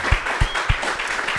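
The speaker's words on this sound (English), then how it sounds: "I want to give one more round of applause just for the insight" An audience at a talk claps in a brief burst, with a few sharper, louder hand claps standing out at a steady rhythm over the general patter.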